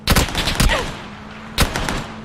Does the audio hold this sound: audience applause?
no